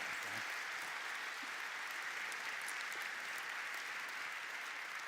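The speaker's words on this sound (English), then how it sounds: "give them a big round of applause" A conference crowd gives a panel steady, even applause at a transportation conference. The clapping is heard at moderate distance, continuous and unbroken throughout, with no speech over it.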